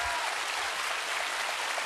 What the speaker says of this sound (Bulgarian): Аплодисменти за Дони